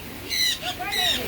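Two short, harsh bird squawks sound close by at an aviary bird sanctuary in Costa Maya, Mexico, with a faint voice mixed in.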